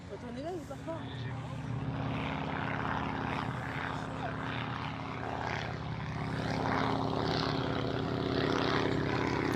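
Druine D31 Turbulent single-seat propeller plane flying at a vintage air show at La Ferté-Alais, a steady engine drone that grows slightly louder, with people talking over it.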